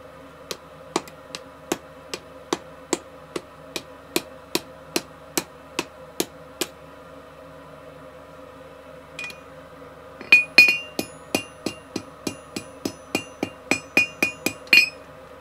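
A hammer taps a forged steel bottle opener over a round die on a wood stump, making a steady series of bright, ringing metallic strikes. After a short pause, louder and quicker blows follow.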